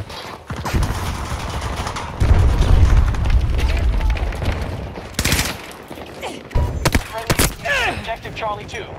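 Grenade blasts and bursts of gunfire in the Battlefield video game, deep rumbling booms followed by sharp clustered shots, with voices calling out over the combat.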